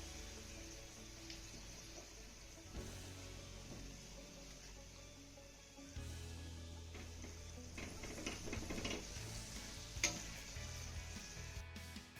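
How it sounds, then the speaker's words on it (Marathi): Papad rolls fry in hot oil in a kadhai over a medium flame, giving a steady sizzle and crackle with occasional soft stirring ticks throughout. "यावरतीच आपल्याला हे रोल कुरकुरीत होईपर्यंत तळून घ्यायचे आहेत"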